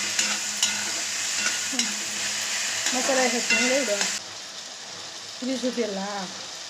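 Tomatoes and boiled peas stir-fried in a pan for fried Maggi, a steady broadband sizzle with scraping stirs, close and fairly loud, with brief voice-like tones over parts of the frying.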